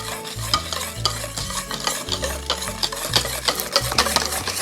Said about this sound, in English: we're gonna whisk